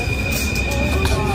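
Paris metro train with wheels squealing, a steady high whine held over continuous rumbling rail noise throughout, with faint voices in the background.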